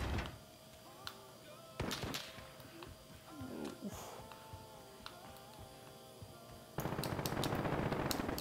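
Gunfire in the video game Call of Duty Modern Warfare, with a few sharp bursts of shots and impacts over a low ambient bed, then a denser, louder stretch of rapid firing near the end.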